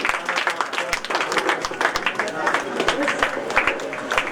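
A crowd at a school event welcoming new trustees, Eliwa Sarvat school, claps loudly and continuously with sharp individual hand claps, while voices talk over the applause.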